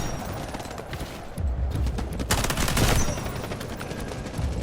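Rapid bursts of SG552 rifle fire in the video game Delta Force, with dense automatic shots at moderate volume and a louder stretch in the middle.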